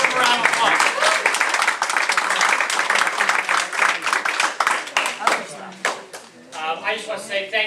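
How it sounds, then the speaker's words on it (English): Audience applause at the close of an evening real estate marketing seminar, dense clapping that fills the room, gradually thinning toward the end with a few isolated claps and a voice starting to speak. "Give a round of applause."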